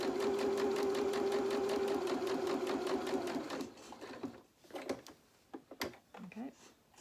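A home sewing machine stitches a small waistcoat for a Luna Lapin rabbit doll, running in a steady, close, loud whir for about three and a half seconds before stopping, followed by a few quiet handling clicks.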